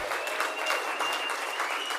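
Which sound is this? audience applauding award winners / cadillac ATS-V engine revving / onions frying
audience applauding award winners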